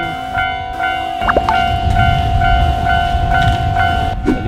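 A train passes through a station in Osaka, Japan, with loud rolling wheel rumble and steady tonal hum from the cars, punctuated by brief higher chimes or squeals near the start and end.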